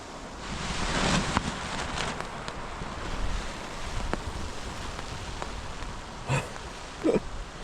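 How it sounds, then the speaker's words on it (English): Strong wind gusts roar across a lake shore, a constant loud rushing with buffeting against the microphone and a few sharper gusts near the end, no voices. "The wind is just nuts."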